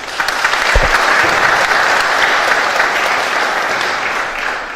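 Audience applause at a judicial administration conference welcoming a speaker, a steady, loud wash of many hands clapping throughout with no talking.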